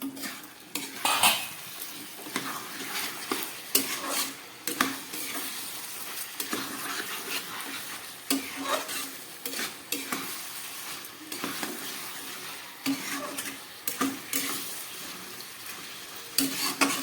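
Chicken pieces sautéed with turmeric in a pan over a low gas flame, a constant gentle sizzle under repeated metal spatula scrapes and clinks, close and steady throughout.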